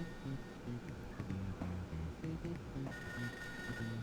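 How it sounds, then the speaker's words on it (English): A telephone rings in the distance in the ToeJam & Earl Sega Genesis game, heard as a faint, thin repeated tone beneath the game's loud, busy bassy music. "You can hear a phone ring in the distance."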